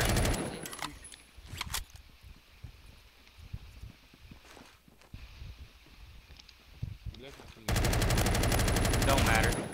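Gunfire in the Roblox game Phantom Forces, bursts of sharp shots in short volleys with footsteps between, ending in a loud sustained automatic burst, close and harsh.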